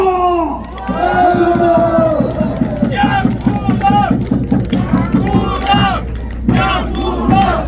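A large outdoor crowd at an election campaign launch rally in Gwangju's 5.18 Democracy Plaza shouts and chants in a loud, pulsing rhythm, close and continuous for several seconds.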